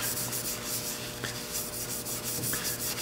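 A cloth rubs excess wipe-on oil finish off a turned wooden hollow form, a soft continuous scrubbing with faint repeated strokes, close and quiet with no talking.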